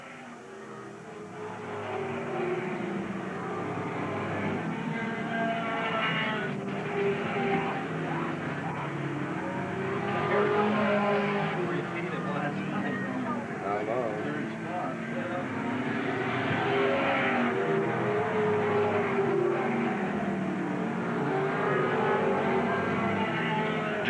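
Stock race cars circle Willamette Speedway in a close pack, a steady loud engine roar that swells and fades as they pass, running continuously under a public-address announcer's commentary.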